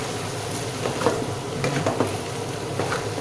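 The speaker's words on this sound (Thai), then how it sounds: "หน่อไม้ลงไป พร้อมกับเราก็ คลุกเคล้าผัดให้เข้ากัน" Pickled bamboo shoots stir-fried in a pan with chicken curry paste, giving a steady sizzle with scraping and stirring clatter at an even, close pace, no voices.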